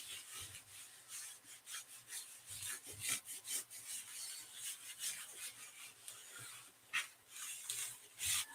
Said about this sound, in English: we'll just give it a nice little rub, nice and gentle